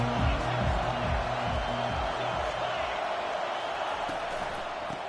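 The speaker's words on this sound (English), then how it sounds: "This crowd trying to make life miserable for this offense." Steady roar of a football stadium crowd during a drive, broad and continuous throughout, with low chanting or horn-like tones and commentary voices underneath at the start.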